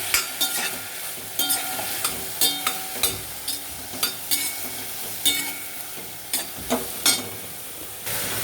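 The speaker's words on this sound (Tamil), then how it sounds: "நல்லா கோல்டன் ப்ரௌன் ஆகிற வரைக்கும் நல்லா வதக்கி விட்டுருங்க" Parandai (fish) sautéing in a pan until golden brown, a steady sizzle and hiss broken by regular scraping stirs about every half second, close and alone without talk.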